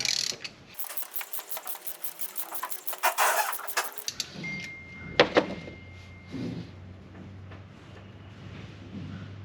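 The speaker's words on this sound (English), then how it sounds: "So let's get this nut off and the rocker ball off." A ratchet wrench clicks rapidly in quick bursts while backing a nut off an engine rocker arm on a Chevelle, followed by metallic clinks and handling of the loosened parts, close and fairly loud with no talking.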